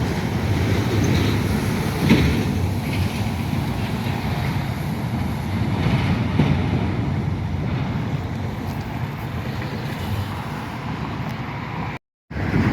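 A freight train with Union Pacific and Norfolk Southern locomotives, including a mid-train Norfolk Southern DPU, rolls past in a neighborhood, a steady loud rumble of wheels and cars continuing throughout with a brief dropout near the end.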